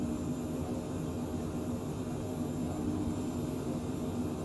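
Steady, continuous jet engine drone of a Cessna Citation Mustang C510 in flight within a flight simulator game, a broad even roar with a low hum and no talk.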